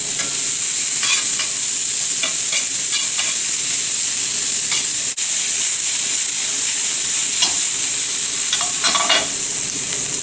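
Onions sautéing in a pan with a little added fat, a loud, continuous hissing sizzle held close throughout, broken by light bursts of spatter and stirring scrapes.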